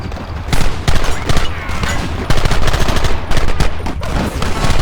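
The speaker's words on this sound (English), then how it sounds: "There they are! Open fire!" Red Dead Redemption gunfire erupts in loud, dense volleys of overlapping rifle and pistol shots, close and continuous with short surges, with little talk over it.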